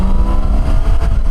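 A BMW 1600 GT six-cylinder motorcycle pulls hard in third gear, a loud, close, continuous engine roar with steady low rumble and no pause.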